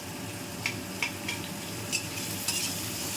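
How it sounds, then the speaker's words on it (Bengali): Onion fries in oil with garam masala and bay leaf, giving a dense, steady sizzle broken by a few quick stirring scrapes of a spatula against the pan. "দিয়ে আমি পেঁয়াজটা আরেকটু ভাজবো এগুলোর সাথে"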